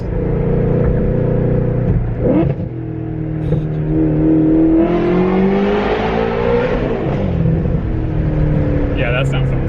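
A Nissan 350Z running on E85 revs hard inside a tunnel, its loud engine note climbing and falling as it echoes off the walls, while voices talk over it.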